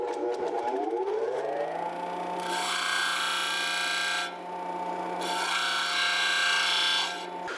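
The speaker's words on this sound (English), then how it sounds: "take each one of these joints and grind a V in there, a bevel, so that we get really good penetration with our weld" An angle grinder cuts a V bevel into steel sway bar link joints ahead of welding on a 1982 Jeep CJ7, a loud sustained whine that rises in pitch and shifts tone in long bursts as the disc bites and lifts, with no talking.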